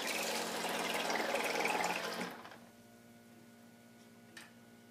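A Beveo drink machine dispenses flavored liquid from micro pumps into a cup: a steady, fairly loud pouring and pumping hiss for about two seconds, which then cuts off and leaves a quiet hum with one brief click.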